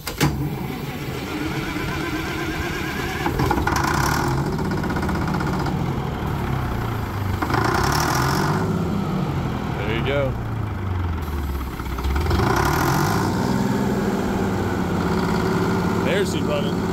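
A Mississippi circle sawmill engine is cranked up and runs with a steady loud drone whose pitch rises and falls in slow swells, with people talking over it.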